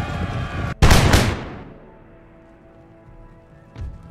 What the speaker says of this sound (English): some lovely shrapnel shots at close range